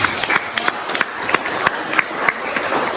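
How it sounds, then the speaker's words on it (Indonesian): Scattered classroom applause for students' presentations at a high school, individual sharp claps popping out unevenly over a busy, echoing room for a few seconds. "Tepuk tangan untuk presentasi semuanya"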